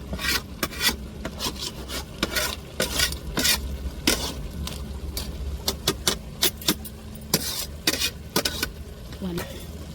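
Crab biryani rice being stirred in a pot, with repeated scraping and rubbing strokes against the metal, close and fairly loud, in an irregular rhythm over a steady low background hum.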